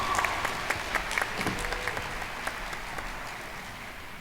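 Audience applause at a nursing and graduate commencement ceremony welcomes a speaker, a steady mid-sized clapping that slowly fades over a few seconds with some scattered cheers.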